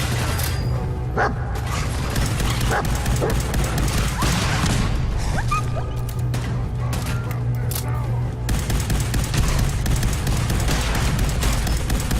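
Hound barks in Fallout 4 sound amid loud, dense game audio, with gunfire-like bursts and mechanical clatter throughout, continuous and busy for the full stretch.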